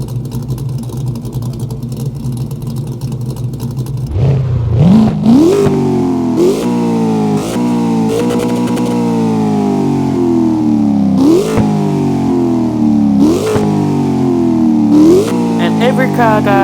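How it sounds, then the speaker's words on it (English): A car engine in the video game CarX Drift Racing Online idles with a low, steady rumble, then revs sharply several times, each rev climbing and falling back to idle. "Now I turned off the music just so you can hear this car idle."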